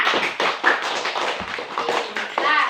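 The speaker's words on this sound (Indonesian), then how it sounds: "beri tepuk tangan untuk kita semua" A classroom crowd applauds, dense overlapping claps and taps lasting a few seconds, loud and close, with a few voices mixed in.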